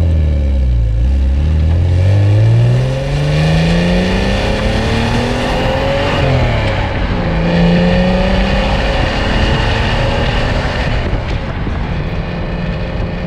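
A Porsche Boxster's mid-mounted engine drones steadily while driving, loud and close from inside the cabin, its pitch rising and falling through gear changes with no talk over it.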